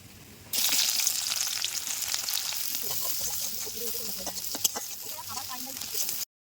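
Chopped onions fry in hot oil in a kadai with cinnamon and cardamom, giving a steady, close sizzle with a few crackling pops and faint scraping throughout.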